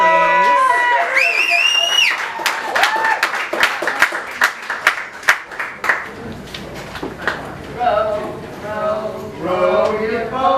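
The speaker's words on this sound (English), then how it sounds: "Round of applause, please." Audience applause and cheering at a poetry slam in an arts bar, a loud burst of clapping that swells then thins out, with whoops and voices mixed in toward the end.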